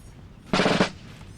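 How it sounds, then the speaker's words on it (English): A single short musket volley from massed infantry in Napoleon Total War, set at the Battle of Paris in 1814, lands as one crackling burst lasting under half a second amid quiet. "Give them a volley, boys."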